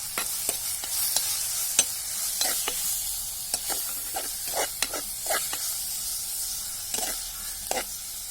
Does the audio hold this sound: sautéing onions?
yes